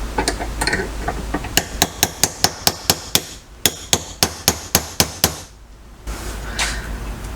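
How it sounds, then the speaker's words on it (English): Sharp metallic hammer blows strike a steel chisel while driving a pin from a Mercedes W209 CLK convertible top hinge lever, about a dozen evenly spaced close hits in a steady rhythm, with brief quieter pauses and no talk. "I'm gonna use the chisel once again."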